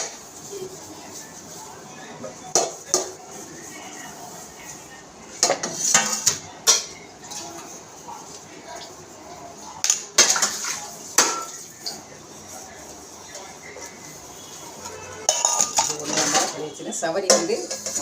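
Dishes and pots clatter and clink in irregular bursts, cutlery rattling against metal, with a voice talking over much of it.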